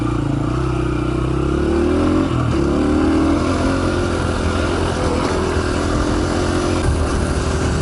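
A small 150cc motorcycle rides along with a loud, steady engine drone that shifts pitch as it changes speed, heard close and continuous with wind noise and no talking.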